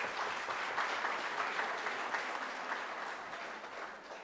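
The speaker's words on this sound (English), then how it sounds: "Give this administration a round of applause" A diaspora forum audience claps for a government administration during a speech, producing a steady round of crowd applause that gradually tapers off.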